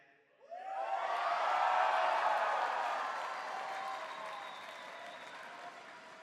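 A crowd at a sports opening ceremony bursts into applause and cheering after a short quiet start. It swells quickly, holds loud and broad with scattered whoops, then slowly eases while still going.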